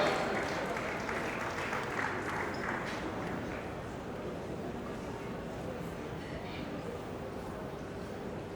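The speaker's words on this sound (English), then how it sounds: "A round of applause for them, please." An audience at a bank's International Women's Day event applauds graduates, a broad, steady wash of clapping that starts loud and settles slightly softer as it continues, with faint voices mixed in.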